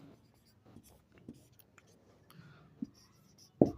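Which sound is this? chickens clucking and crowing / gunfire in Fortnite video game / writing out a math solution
writing out a math solution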